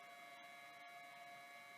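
A faint, steady electrical hum lingers from a three-phase converter on a Grizzly G0640X bandsaw after the power is switched off, a low buzzing drone with a couple of tiny clicks and no speech.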